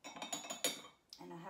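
A cup holding used tea leaves is set down, giving a quick run of light clinks and a sharper knock, then a brief scrape, all close and fairly quiet.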